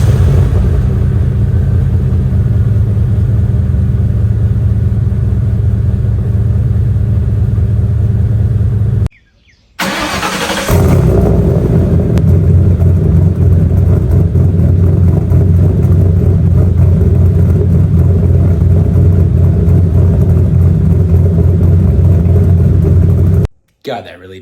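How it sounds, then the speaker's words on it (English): A Ford Mustang with Borla and Flowmaster exhausts compared side by side cold-starts and idles with a deep, loud, steady exhaust rumble, broken by a brief cut, with faint birdsong in the background. "Let's hear that cold start again"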